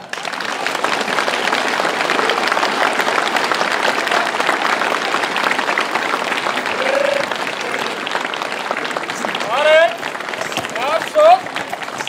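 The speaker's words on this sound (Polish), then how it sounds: "to prosimy o brawa." Outdoor audience clapping at a horse-drawn carriage competition in Lubostroń, a broad steady patter of hands heard at a distance, with voices and a few brief sharper sounds mixed in toward the end.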